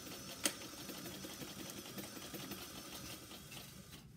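Sewing machine back stitching a strap on a kitchen towel, a steady continuous mechanical whir at moderate level with one brief sharp click near the start, no talking.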